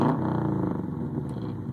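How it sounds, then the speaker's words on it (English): A Subaru WRX engine revs in a short, steady burst with a throaty, pulsing exhaust note, close and fairly loud, no talking. "No, that is a Subaru WRX of some kind."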